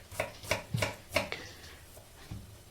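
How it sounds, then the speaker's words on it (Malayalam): Onions are sliced lengthwise with a knife on a board for biryani, giving about five crisp, evenly spaced cutting thuds up close, then a pause and one softer final cut. "നമുക്ക് കുറച്ച് സവാള എല്ലാം ഒന്ന് കട്ട് ചെയ്ത് വെക്കാം"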